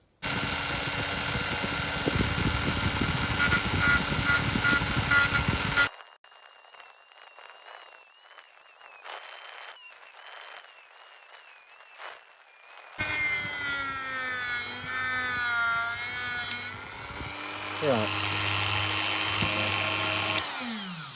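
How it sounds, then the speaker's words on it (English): A small power tool cuts off tiny screws for the headlights of a die-cast BMC Mini model. The motor whines steadily, then the sound changes into rougher grinding and shifting pitches, loud and close with no speech. "What I need to do with these screws, which are going to form the smaller headlights, is cut them off."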